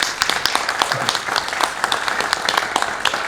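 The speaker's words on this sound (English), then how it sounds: "let's give him a big, big round of applause" An audience at a homeownership summit claps for the city mayor in a short burst of dense, continuous applause.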